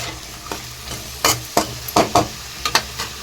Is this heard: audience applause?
no